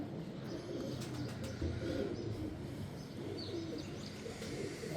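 Pigeons kept by a fancier coo softly in low, rolling murmurs, with a few faint chirps and a background hum; the birds sound close but quiet, with no talking.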